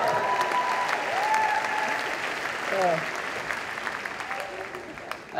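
Sustained, loud audience applause and cheering for the class of 2014 at a high school graduation, steady throughout, with a few voices calling out over it.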